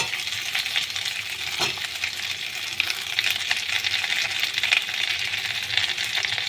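Tomatoes and onions fry in a pan for Bengali egg curry, giving a steady bright sizzle with occasional stirring scrapes and soft crackles, close and without voices.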